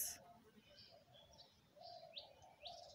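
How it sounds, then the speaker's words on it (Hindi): Birds chirping outdoors in the early morning, short bright tweets and trills repeating irregularly, fairly faint against a soft background hiss, with a possible dove coo. "sound chirping of birds"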